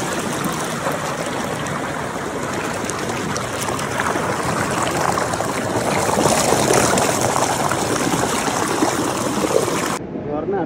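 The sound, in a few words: waterfall water flowing over rocks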